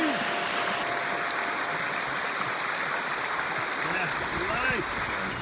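Constant rushing flow of creek water in the Grand Canyon near Phantom Ranch, a broad steady wash that fills the whole stretch evenly, with faint scattered chirps above it.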